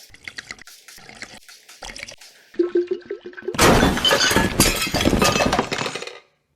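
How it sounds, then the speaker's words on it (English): Water sprayed or poured to dampen natural hair before coloring it red gives a dense, close hiss and splash that starts abruptly partway through and stops suddenly, after a stretch of small clinks and handling noises. "I'm gonna wet my hair just a little bit."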